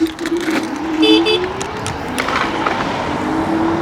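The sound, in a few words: vehicle horn honking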